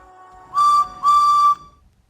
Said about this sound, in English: the guard blew his whistle